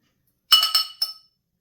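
A metal knife clinks against the side of a drinking glass of warm water three times in quick succession, bright and close, with no talking.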